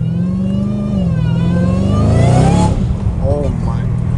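A Dodge Challenger Hellcat Redeye's engine revs up loudly and close by, its pitch climbing and then falling away, while people talk over it.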